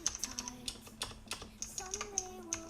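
Fingers type on an AULA Wings Of Liberty mechanical keyboard, producing quick, irregular clacky keystrokes close to the mic with a hard, sharp sound, and no talking.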